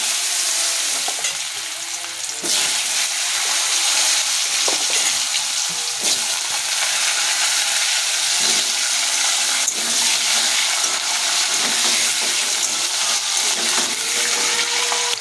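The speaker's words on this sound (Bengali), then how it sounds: "তো আলুগুলো আমি দিয়ে দিচ্ছি।" Potatoes frying in hot oil with cumin seeds give a loud, steady sizzle that runs unbroken throughout, with occasional scraping stirs in the pan.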